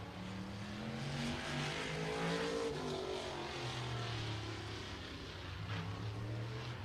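A race car runs a lap at a short speedway in Pinellas Park, Florida, its engine droning and shifting in pitch as it passes, heard at a distance and fairly faint, with no talk.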